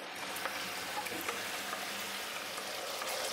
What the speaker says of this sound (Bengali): এবার এটাকে ফুটিয়ে নেব।